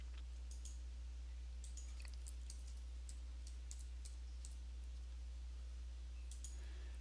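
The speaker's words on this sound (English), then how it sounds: "And then click on View Report." Mouse and keyboard clicks while working in donation software on a computer: sharp, close, faint taps in irregular small clusters over a steady low electrical hum.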